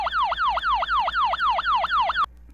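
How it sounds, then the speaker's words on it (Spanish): A simulated emergency siren from a Doppler effect physics simulator sounds alone and loud, its rising-and-falling sweeps repeating about eight times in quick, even rhythm before cutting off abruptly. "en este simulador podemos cambiar la sirena"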